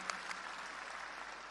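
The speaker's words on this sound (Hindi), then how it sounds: "तो एक बार जोरदार तालियां बजा के उनका हम सम्मान करते हैं" Faint, brief applause from an audience at a gathering honoring winning district council and block committee candidates, a light patter of clapping heard from a distance.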